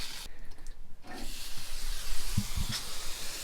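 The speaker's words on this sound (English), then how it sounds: "There's just a lot more water coming out now, and that travels way further." A 3/4-inch fire hose nozzle on a high-flow garden hose setup sprays a strong, steady hissing jet of water, broadband and continuous, with a couple of faint low knocks near the end.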